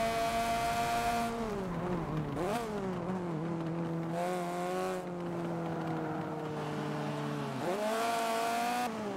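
A 1990 Mercedes 190E 2.5-16 Evo engine revs hard in a Forza Motorsport 7 sport touring race, a loud continuous drone that dips and climbs again at gear shifts, with no talking.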